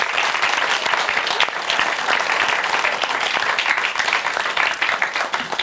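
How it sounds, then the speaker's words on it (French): A crowd applauds at a live show, with loud, dense clapping that runs unbroken from start to finish. "ça s'applaudit"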